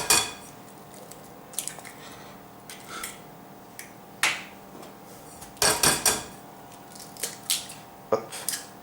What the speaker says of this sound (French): je casse 2 œufs entiers